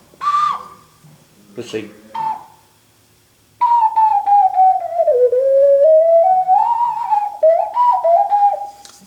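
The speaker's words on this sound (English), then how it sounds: "this is a straw fire ocarina" A straw fire ocarina plays a Pirates of the Caribbean tune as a clear, breathy whistle-like melody up close, after a few short test notes and a brief spoken phrase.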